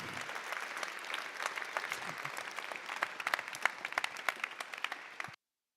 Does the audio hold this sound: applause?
yes